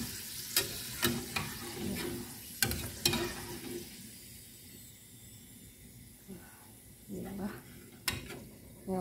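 Chicharon macaroni frying in hot oil, a quiet continuous sizzle punctuated by sharp clinks and scrapes of stirring utensils against the pan, with a voice talking faintly at times.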